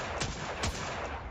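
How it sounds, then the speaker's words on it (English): Hand cannon shots in the video game Destiny, two sharp reports roughly half a second apart over a steady, dense in-game noise bed, moderately loud and close. "I really like this hand cannon."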